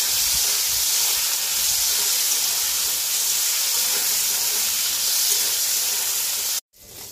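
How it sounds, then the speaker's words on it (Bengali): Thin-sliced potatoes frying in a pan for a Bengali okra, potato and poppy-seed dish give a steady, close, hissing sizzle that runs unbroken and cuts off abruptly near the end. "আলুগুলো দিয়ে দেবো। আলুগুলো একটু ভেজে নেব।"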